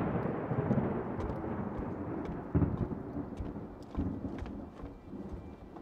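Rolling thunder rumbles as a rainstorm approaches, a low continuous roar with a few sharper cracks and swells, moderately distant, over a faint patter of rain.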